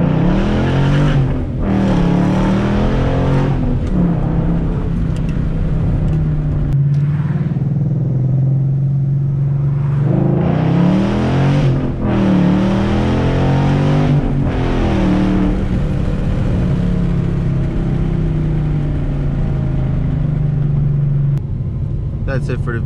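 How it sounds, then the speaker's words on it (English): A 2012 Ford Mustang GT engine rumbles while driving, revving up through gears with pitch climbing then dropping at each shift, loud and close from inside the cabin. "You can hear the car. You can see me shifting."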